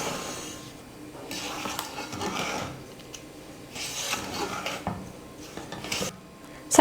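A spoon scrapes and clinks against a pan while rava is stirred with cardamom powder for rava laddu over a medium or low flame, giving an irregular, continuous scraping sound at close range with no talking.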